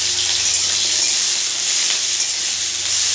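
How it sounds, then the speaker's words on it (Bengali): Cut potatoes sizzle in hot oil in a pan with whole spices and bay leaves, a steady broadband frying hiss that runs the whole time, close and fairly loud, with no talking. "আলুগুলো ভেজে নেব।"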